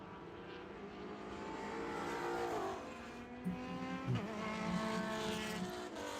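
Race cars on a road course, a Toyota Supra and BMWs in a 7-hour endurance race at Road America, roar past with rising engine tones, gear-shift dips and a brief tire squeal, heard at moderate distance with no talk.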